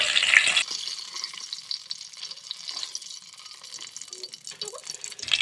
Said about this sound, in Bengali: উল্টে পাল্টে আমি এগুলাও একইভাবে ভেজে নিব